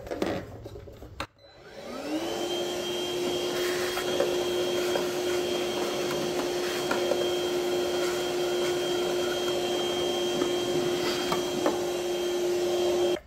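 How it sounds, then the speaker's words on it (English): A shop vac runs steadily inside the tower of a Roborock S8 Pro Ultra robot vacuum dock, starting up after a brief clatter and holding a loud, constant whine with airflow rush for the rest of the clip. "I'm going to vacuum out the inside of this with a shop vac again."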